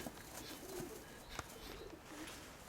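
Pigeons from a dovecote coo softly in low repeated calls, fairly faint against a steady background hiss, with one brief sharp click partway through and no talk.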